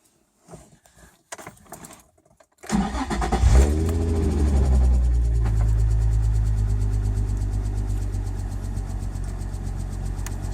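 A 2004 Nissan 350Z engine cranks after a few faint clicks, then catches with a loud low rumble, flaring briefly before settling into a steady, close idle.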